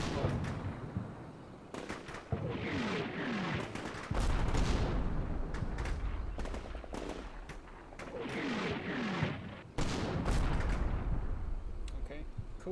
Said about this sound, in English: The mortars are coming in roughly on that building that we were engaging before